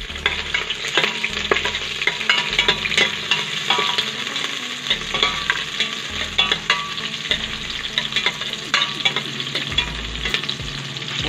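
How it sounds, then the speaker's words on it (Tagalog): Onions sautéing in a hot pan with oil, a steady sizzle broken by repeated stirring scrapes and clanks at an even rhythm, close and moderately loud, no talking. "simulan na natin yung paggigisa. Tapos yung sibuyas"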